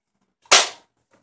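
A Nerf foam dart gun fired once during a birthday Nerf war, a single sharp close pop that fades quickly, with no talk over it.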